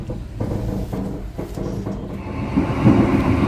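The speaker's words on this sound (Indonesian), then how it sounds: "ini merapat stasiun Madiun setelah ketahan sinyal ya" A passenger train pulls into Madiun station in Indonesia after a signal hold, with a continuous low rumble, a few rhythmic thumps and clatter, and a swell in loudness near the end.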